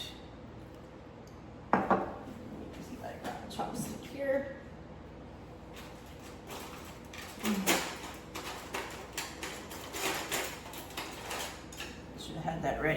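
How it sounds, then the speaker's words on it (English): A wooden chopstick stirs chive blossoms steeping in vinegar inside a glass jar, giving scattered light clinks, taps and scrapes against the glass over several seconds, close and fairly quiet. "we can stir them with a wooden utensil. I'm going to use a chopstick"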